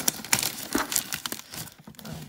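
Close crinkling and tearing of packing tape on a parcel, quick scratchy bursts as the tape is cut open.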